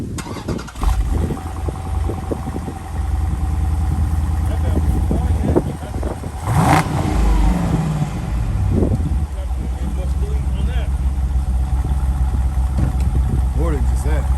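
A Dodge Hellcat widebody engine cranks over and settles into a loud, steady idle that fills the whole stretch, with people talking over the rumble.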